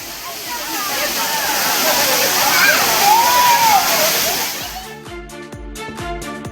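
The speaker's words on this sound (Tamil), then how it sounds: "ஆர்ப்பரித்து கொட்டும் அருவியில் மக்கள் உற்சாகமாக குளித்து மகிழ்ந்தனர்." The Agasthiyar waterfall roars loud and steady as people bathe beneath it, its dense rushing water filling most of the stretch before it gives way to a rhythmic, pulsing sound near the end.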